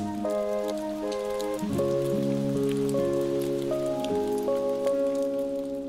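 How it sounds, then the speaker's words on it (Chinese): Heavy rain falls in a steady, dense patter throughout, with sustained music playing over it from start to finish. "下雨好大呀"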